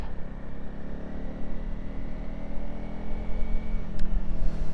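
The single-cylinder engine of a 2025 Honda CRF300 Rally motorcycle rumbles steadily at close range, a dense low throb with slight rises in revs throughout.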